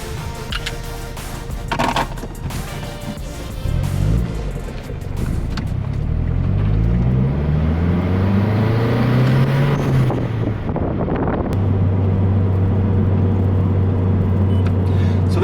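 A front-wheel-drive 2.3 liter turbo Mazdaspeed 3 on the road, its engine note rising and falling through the gears under steady road and wind noise, heard from inside the cabin.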